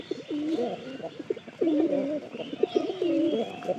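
Pigeons perched on a rooftop coo steadily in overlapping rounds of throaty, rolling calls, close and fairly loud, with no talk over them.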